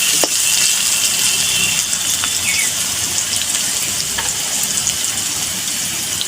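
Potatoes fry with salt in a pan for a Bengali cabbage and bottle gourd greens chorchori, making a steady, loud, close hiss of sizzling oil with a few faint clinks throughout.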